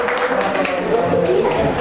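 Classroom applause for a student group after its presentation: steady, dense clapping from a room of learners, mixed with overlapping voices throughout.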